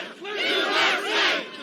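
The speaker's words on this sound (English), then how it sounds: "They're chanting, USA, USA, and they're shouting and whooping like it's a party." A large celebrating crowd chants and whoops in a radio news drama, a dense roar of many voices swelling twice over a couple of seconds, loud and sustained.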